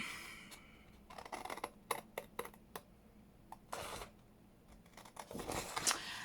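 Scissors snip through paper while cutting out a tag for a junk journal envelope folio, giving a series of short, close crisp cuts with pauses between them and light paper rustling.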